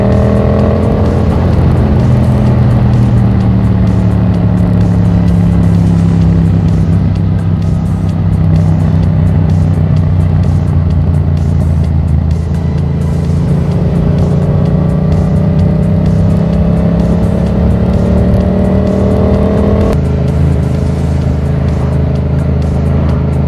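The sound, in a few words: exhaust popping and revving on a Yamaha MT-07 motorcycle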